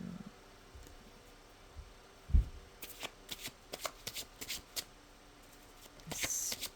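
Tarot cards being shuffled by hand during a divination reading, a run of crisp riffling clicks and soft slaps that grows busier toward the end after a low thump, close and fairly quiet with no talking.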